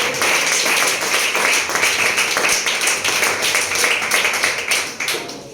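Applause from a church congregation during a Spanish-language service, a steady dense wash of many hands clapping together that carries on loudly throughout and thins slightly at the very end.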